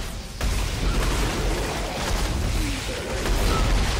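An explosion in Dead Space 3 starts with a sharp onset after a brief lull, then a loud, dense rumble rolls on for several seconds, close and heavy with no speech over it.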